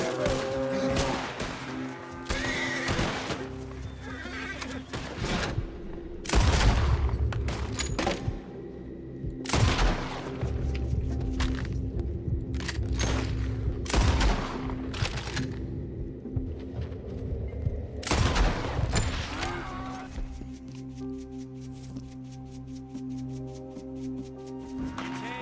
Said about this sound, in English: People are shooting at you!